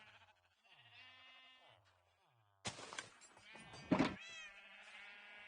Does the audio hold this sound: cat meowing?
yes